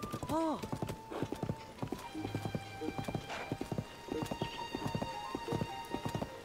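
Rhythmic clip-clopping of a giant horse's hooves at a steady trot in a video game, The Legend of Zelda: Tears of the Kingdom, with a brief neigh near the start and a faint background hum.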